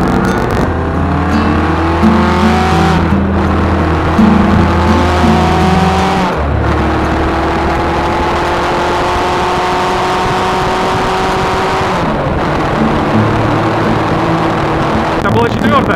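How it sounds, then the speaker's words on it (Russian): A Kawasaki KZ 650 classic motorcycle accelerates through the gears, its engine note rising in pitch with brief dips at each shift, loud and close over steady wind roar; a rider speaks intermittently. "Начинаю разгон."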